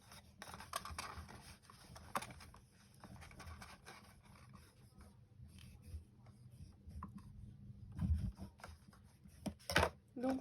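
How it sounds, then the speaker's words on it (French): Paper card is snipped and bevelled with scissors in short, quiet cuts spread unevenly, with faint handling noises and soft background sounds. "Couper un tout petit peu à chaque fois pour être sûr que votre boîte ne soit pas"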